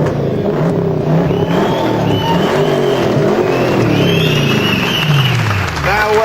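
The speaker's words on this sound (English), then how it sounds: "The sound of V8 thunder." A V8 car engine revs loud and close, a continuous thunderous roar rising and falling in pitch with a throaty burble, while a voice talks over it.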